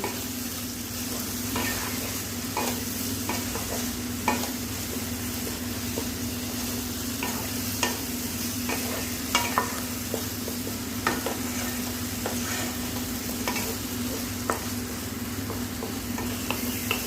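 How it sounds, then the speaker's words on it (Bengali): Snail curry fries in a pan with a constant close sizzle over a low steady hum, with occasional scrapes and clicks of stirring. "আর একটু ভাজলেই রেডি শামুক চচ্চড়ি"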